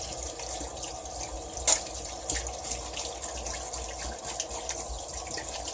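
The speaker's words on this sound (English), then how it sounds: "Let's see if I can rinse it off my hands." Tap water runs steadily into a sink while hands are rinsed of a pink bath bomb jelly embed, with a soft continuous splash and one brief louder splatter.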